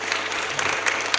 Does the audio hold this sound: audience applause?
yes